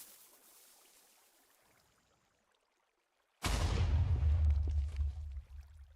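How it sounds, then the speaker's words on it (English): A Minecraft explosion in a redstone tree farm build bursts in suddenly after near silence, a loud booming blast with a rumbling low tail that fades over a few seconds. "And that'll help blow up some stuff, and I don't think I take damage from that"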